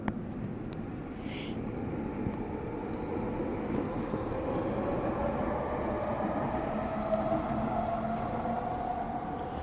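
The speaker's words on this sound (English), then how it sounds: "Train." A steady, low rumble of a passing train fills the whole stretch, loud and continuous, with a faint rising whine near the end.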